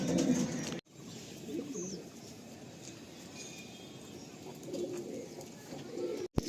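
Andhra breed pigeon squabs cooing in a loft, soft repeated coos over a steady background hum, with a couple of abrupt handling knocks.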